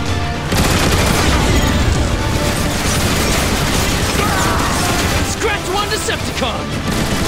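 Heavy turret gunfire and explosions fill a Transformers: War for Cybertron battle scene, with dense, continuous loud bursts and booms throughout and a voice briefly speaking over the barrage.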